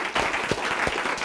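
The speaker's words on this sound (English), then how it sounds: "let's give him a real round of applause" Brief applause from a class of students welcoming a guest speaker, a dense, moderately loud patter of clapping with no talk over it.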